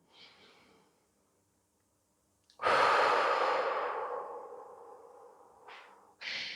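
Deep breathing during a shoulder stretching exercise: a faint breath, a pause, then a loud, long exhale that slowly fades, followed by another breath starting at the end.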